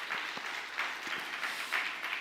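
Church congregation applauding during an autumn evening revival service, a steady wash of many hands clapping at moderate distance with a few sharper claps standing out, no talk over it.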